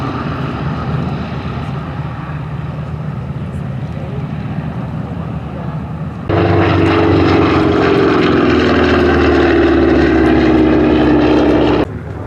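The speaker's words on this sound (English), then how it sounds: "The undercarriage of the P-47 tucks away as the Mustangs taxi out in front of us, and the B-17." P-51 Mustang warbirds and a B-17 taxiing at an airshow make a steady rumbling propeller drone. It swells into a louder, close engine roar partway through, then drops back near the end. No speech is heard.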